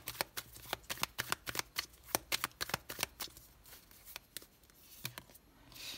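Tarot cards are gathered and shuffled by hand in a rapid run of crisp, close slaps and riffles, fairly quiet, easing off toward the end.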